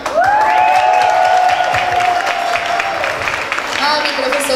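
Audience at an album launch clapping and cheering, a broad wash of applause mixed with crowd voices and a held vocal tone over it, fairly loud and continuous.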